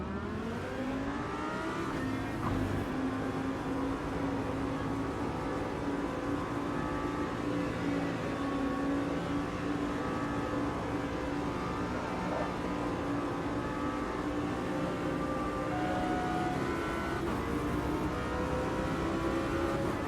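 A pack of Audi R8 LMS GT4 race cars at Road America in Automobilista 2 accelerates from a rolling start, a dense, steady engine drone that is moderately loud and rises gradually, with no talk.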